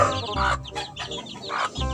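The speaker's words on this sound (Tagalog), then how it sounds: "May mga manok." Chickens cluck in short bursts, close by, with a few louder squawks standing out against the farmyard.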